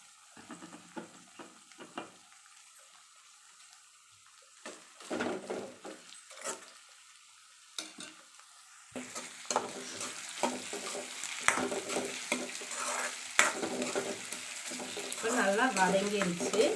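Cut coconut pieces sautéing in a pan with sizzling oil, stirred now and then with a utensil scraping the pan; the frying grows louder and steadier toward the end, with no talking.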